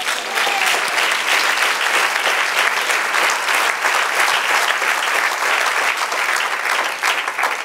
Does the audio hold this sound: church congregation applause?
yes